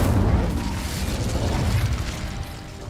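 The Incendio fire spell is cast in Hogwarts Legacy on PS5, a loud whooshing burst of flame with a rumbling, crackling body that fades over a few seconds.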